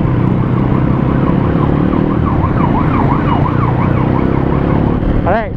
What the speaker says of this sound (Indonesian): Dah belakang ada ambulans.